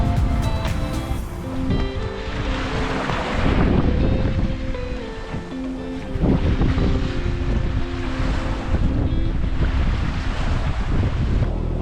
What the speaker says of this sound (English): After lunch, wind picked up, and we started sailing.